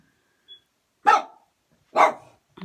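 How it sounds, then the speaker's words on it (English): A dog barks twice in a quiet room, two sharp, loud single barks about a second apart, followed by the start of a third sound at the end. "Sorry about the dog."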